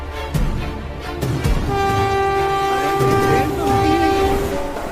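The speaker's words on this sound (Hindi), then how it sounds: "अरे ये ट्रेन तो रुकी ही नहीं" A train runs straight through a station without stopping, its long sustained horn blasting loudly over steady rumbling and rail noise for several seconds.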